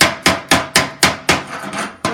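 Hammer chipping slag off a fresh butt weld, about nine sharp metallic strikes at a steady fast rhythm, loud and close with no talking.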